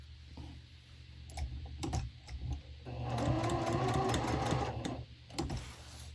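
A sewing machine stitches a Dresden quilt block in one sustained run of a couple of seconds, framed by scattered clicks and handling taps before and after.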